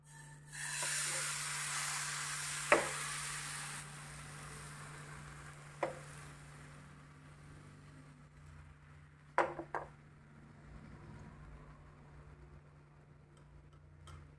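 Alle Belle batter cooks in ghee in a pan, a soft steady sizzle with a few sharp clicks and taps over a low hum.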